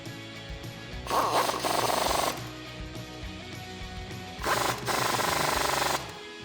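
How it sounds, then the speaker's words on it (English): A ratchet with a 13mm socket tightens floating caliper bolts on a 2WD RAM 1500 brake, two loud bursts of fast ratcheting close by, separated by quieter background clatter. "tighten them down using your 13mm socket"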